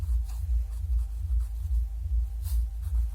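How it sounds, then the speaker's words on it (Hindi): A pen scratches on paper in short rhythmic strokes, writing numbers for a class 10 math problem, close and steady with no talk. "तो इसमें यहाँ लिख देंगे 25 किलोमीटर"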